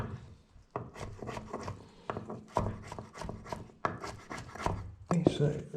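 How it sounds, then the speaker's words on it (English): A knife blade scrapes and mashes canned chickpeas on a wooden cutting board in a series of quick rasping strokes, close and fairly soft, with irregular rhythm. "I am going to mash these up with my knife"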